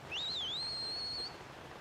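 Link whistles to call his loftwing in Skyward Sword, a single clear, close whistle that rises, dips and then holds a long steady note for about a second.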